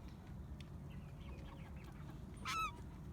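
Heritage chickens, one a questionable rooster, call briefly near the end, a short loud squawk or honk-like cluck over steady outdoor background noise, with faint scattered chirps earlier.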